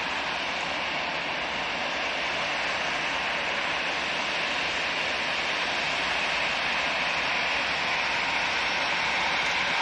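An easyJet jet airliner at Manchester Airport, heard as a steady, loud, broadband engine roar that holds evenly for about ten seconds with no talk over it.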